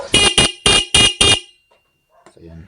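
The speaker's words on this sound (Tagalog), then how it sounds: "rinig nyo naman guys ano, uh, tumunog yung ating stock horn." Five short, loud honks of a motorcycle's stock horn in a quick, even rhythm, then quiet with faint mechanical clicks.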